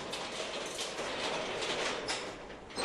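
Freight train hauling new Kia cars for transport across Europe rolls past with a steady, moderately faint rumble and rattling clatter of wagons, continuous throughout.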